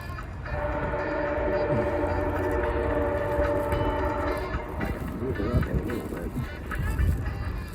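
A MARC MP36 diesel locomotive hauling a train toward a tunnel, a steady loud rumble with sustained engine tones that roughens as the cars pass, heard alone without talk.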